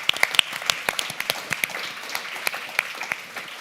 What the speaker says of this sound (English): a round of applause for Sasha